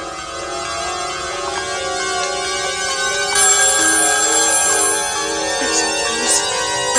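A telephone rings indoors in a television drama scene, its electronic trilling tone repeating steadily for several seconds at moderate loudness, with no voices over it.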